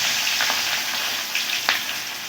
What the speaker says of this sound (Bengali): পেঁয়াজটাকে কিন্তু একদমই খুব ভালো করে লাল করে ভেজে নিতে হবে